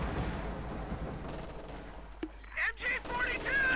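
Machine gun fire from the video game Company of Heroes 2, with a few sharp distant bursts and whistling shell sounds over a low battlefield rumble, fairly faint.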